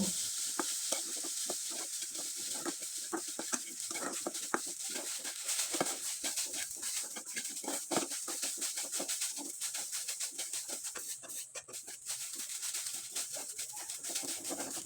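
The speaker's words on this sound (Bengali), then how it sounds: "এখন নেড়ে চেড়ে এই পুরটা একবারে শুকনো শুকনো করে তৈরি করে নেব" Grated coconut and jaggery filling, with crushed cardamom, being stirred in a pan until dry, a soft continuous scratchy scraping in quick repeated strokes, fairly quiet, with faint bird coos in the background.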